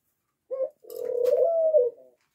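A caged ringneck dove coos up close: one short note, then a longer rolling coo, with silence around them.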